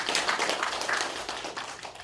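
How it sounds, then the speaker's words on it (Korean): Audience members at a lecture clap briefly on request, a scattered patter of hands at moderate level that thins out toward the end. "나는 잘 웃는 사람이다 생각되시는 분만 박수 한번 해주세요."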